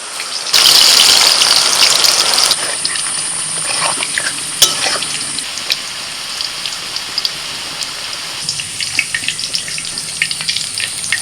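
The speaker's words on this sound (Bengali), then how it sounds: "ওই বেরেস্তার তেলেতে আমি আলুটা ভেজে নিচ্ছি" Loud sizzling of potatoes frying in hot oil left from frying onions, a bright hiss that swells at first and then settles, with occasional stirring scrapes and pops.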